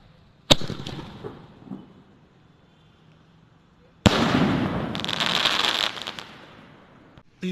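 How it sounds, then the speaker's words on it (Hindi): In an outdoor test of Indian crackers, a large orange sky shot firework is lit and fired. A sharp crack with a fading hiss comes first, then a loud two-second burst of crackling whoosh, followed by another pop at the end. "ऑरेंज वाला बड़ा स्काई शॉट, इसको जला के देखते हैं ये कैसा चलता है।"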